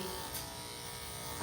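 Cordless electric dog grooming clippers running on a Shih Tzu, a steady close electric buzz humming without a break for the whole short moment.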